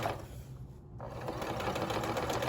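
A sewing machine stitches a zipper, backstitching at the start: a close, steady mechanical whir with a brief dip in the middle before it runs on continuously.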